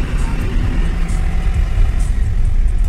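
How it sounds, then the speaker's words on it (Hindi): Vehicles idle and creep in a heavy traffic jam at the Murthal toll plaza, a loud, dense, low rumble of engines close by. "जाम लगा हुआ दोस्तों मुरथल टोल प्लाजा पर, बड़े तगड़े वाला"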